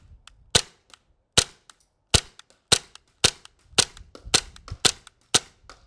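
Airsoft blowback pistol firing shot after shot, each a sharp, loud snapping crack with a slide clack, spaced about half a second to a second apart and getting quicker near the end, heard alone up close.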